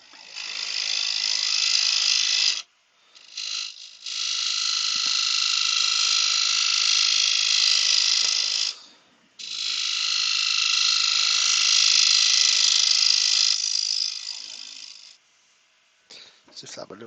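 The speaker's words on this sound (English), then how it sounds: "I'm just going to clean this up with a negative rate scraper" A negative rake scraper cleans up a crackle-effect wooden bowl spinning on a lathe, making loud sustained scraping hiss in long passes of several seconds, broken by brief pauses between cuts.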